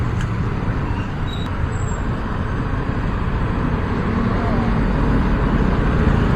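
Steady road traffic noise in Metro Manila, a dense continuous rumble of cars and vehicles at close range, constant throughout.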